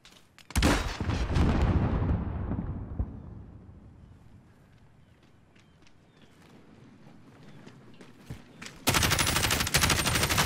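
Gunfire in Call of Duty: Modern Warfare: a dense burst of rapid shots opens loudly, then fades into quieter scattered shots before another heavy burst of automatic fire at the end.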